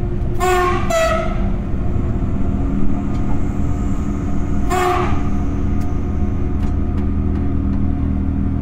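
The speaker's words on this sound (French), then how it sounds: "C'est maintenant une rame Regio 2N apte à 200 km/h en provenance du Croisic qui approche de son terminus." A Regio 2N double-deck passenger train rated for 200 km/h nears its terminus on the line between Nantes and Rennes, its steady rumbling run heard from a locomotive cab, with two short horn blasts and a later third.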